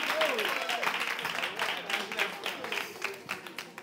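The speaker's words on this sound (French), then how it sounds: "Merci de les applaudir." Applause from an audience at a live entertainment show greets Kolani Stéphane's group, moderate clapping with voices mixed in, tapering into scattered claps.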